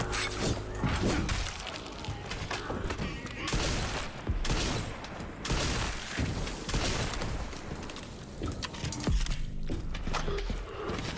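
Dense video-game gunfire, rapid bursts and scattered shots in a loud continuous barrage with mechanical clatter throughout, no talk.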